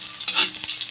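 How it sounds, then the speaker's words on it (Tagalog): Pork fat sizzles in a pan as its oil renders, a close crackling fry with a quick stirring scrape, all within a short burst and no voices. "Itong taba ng pork, salabasin natin yung oil niya"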